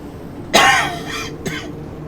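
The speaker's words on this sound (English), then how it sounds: "Literally just started coughing now." A person coughs hard once, then follows with a couple of softer coughs and throat clearing, close and loud over a quiet background.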